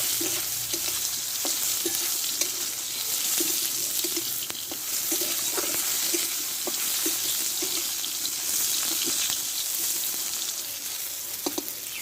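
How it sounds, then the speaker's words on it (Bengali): Ridge gourd frying in oil in a pan, a continuous bright sizzle with occasional clicks of a spatula stirring, steady and close with no voices. "এই তেলে আমি ভালো করে একটু ঝিঙেটা ভেজে নেব"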